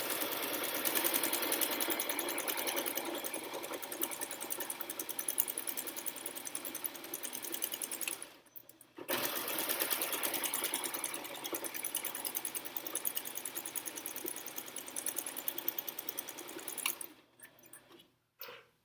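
A sewing machine stitching a fabric pee pad runs in a fast, steady mechanical whir with one brief pause, then resumes and stops near the end, close and moderately loud with no talk.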